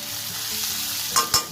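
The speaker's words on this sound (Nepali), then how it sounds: "यो प्याज र गोलभेडालाई तबसम्म फ्राई गर्नुपर्छ जबसम्म यो गोल्डन ब्राउन कलरको हुँदैन" Onions and tomatoes fry in a pan for a spicy chicken curry, a steady close sizzle throughout with two brief louder stirring scrapes near the end.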